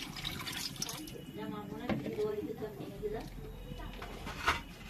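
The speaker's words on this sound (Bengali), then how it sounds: "আর একটু জল দিয়ে দিলাম" Water poured into a pot of mutton curry, a continuous gurgling splash that mixes with the simmering, heard under someone speaking throughout.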